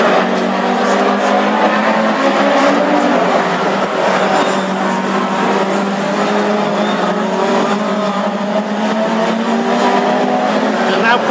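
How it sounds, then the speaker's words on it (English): Hot rod race cars circle a Cowdenbeath oval in a heat, a steady loud roar of engines carrying on throughout with no break, the pack's noise rising and falling slightly as cars lap. "The leaders through again as they lap number 12 Trevor Harris"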